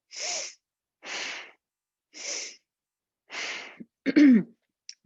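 Forceful Bhastrika yoga breathing through the nose: four sharp, close nasal blasts about a second apart in a steady rhythm, followed by a brief snorting, voiced breath.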